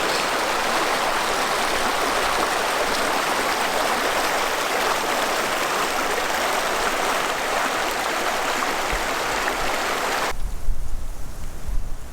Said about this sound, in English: Flint Creek.